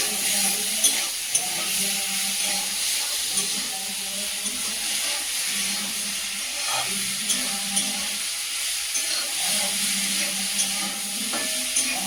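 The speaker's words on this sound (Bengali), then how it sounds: "লবণ, দিয়ে ভালো করে কষিয়ে দেবো।" Malabar spinach stalks with turmeric and salt stir-frying in a pan, a loud, close sizzle and steamy hiss with periodic spatula knocks and a low droning hum beneath.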